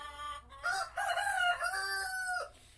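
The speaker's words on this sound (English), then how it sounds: "Here we have a broody chicken." A broody hen in a nesting box gives a drawn-out, wavering cluck-like cry, close and clear, rising and falling over about two seconds before cutting off, with no one speaking.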